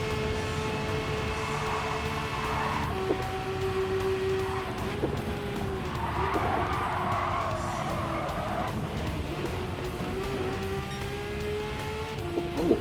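A Ferrari skids and races in the video game Gran Turismo 7, steady engine drone with intermittent tire squeals rising over it, moderately loud and continuous.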